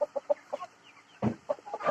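A desi hen gives a string of short, close clucks in uneven bursts, pausing briefly before a louder cluster of calls.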